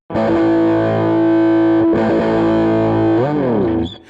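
A loud distorted electric guitar power chord rings out, is struck again partway through, then bends and slides down before fading.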